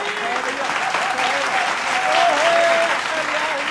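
A crowd applauds in a Hindi political satire segment about Delhi politics. The clapping is a dense, steady wash that holds for the whole stretch at even loudness, with faint tonal sounds running through it.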